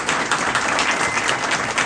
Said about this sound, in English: Can you give everybody a big round of applause for that?